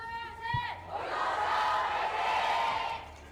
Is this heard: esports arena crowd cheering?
yes